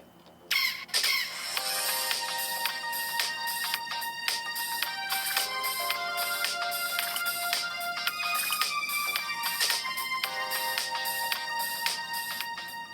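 A melodic electronic ringtone plays loud and clear through the speaker of a Vivo Y01 budget smartphone, bright repeating chime notes running continuously with short pauses between phrases, nearby and alone.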